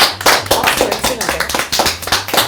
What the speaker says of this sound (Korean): 자, 박수!